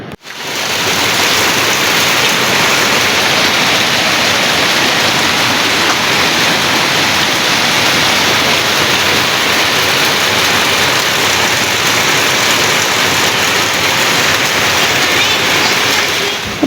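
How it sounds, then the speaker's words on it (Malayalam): Dense, steady roar of heavy rain pouring down, loud and unbroken throughout with no voices. "പുറത്ത് നല്ല മഴയാണ് കേട്ടോ"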